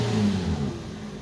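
A Toyota Vios engine, unable to start after three months unused, revs up loudly, then the revving eases off and settles back toward a lower, steadier idle.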